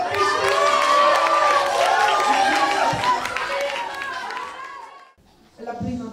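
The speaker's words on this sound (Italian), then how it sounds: "Un applauso all'Orchestra Battisti!" An audience at a school music event cheers and applauds for an orchestra, a loud mix of clapping, shouts and children's voices that fades before a short burst returns at the end.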